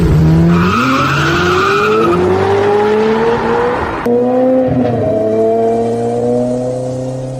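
Aston Martin sports car skidding with loud tire squeals, then its engine revving hard as it speeds off, a sustained rising roar throughout with no talk.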